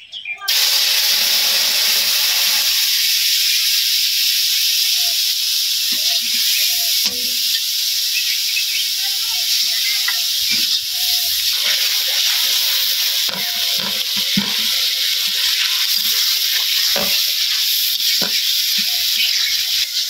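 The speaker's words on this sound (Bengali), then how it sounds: "মশলাটা কষাই নিতেছি, জিরা বাটা, আদা বাটা আর হলুদ," A paste of ground cumin, ginger and turmeric with salt and chilli is sautéed in a pan, making a loud, continuous close hiss and sizzle with occasional stirring clicks.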